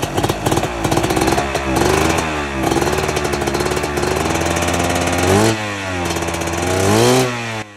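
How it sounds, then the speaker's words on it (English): A dirt bike engine with a freshly swapped carburetor runs rough and uneven, loud and close, with choppy revs rising and falling and stumbling bursts rather than a smooth idle. "the bike was still running like total garbage"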